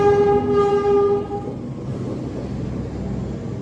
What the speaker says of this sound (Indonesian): Ini ada kereta api yang datang.